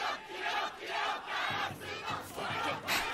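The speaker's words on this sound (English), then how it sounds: "Okay, cheer battle." An animated volleyball match crowd in a cheer battle, loud rhythmic chanting in pulsing waves with no break, like a stadium anthem sung by a packed stand.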